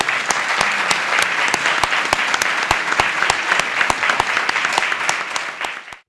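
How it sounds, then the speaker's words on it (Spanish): An audience at an academy of medicine tribute claps steadily and loudly for several seconds, with sharp individual claps standing out from the dense applause before it cuts off abruptly. "quiero que le demos un aplauso"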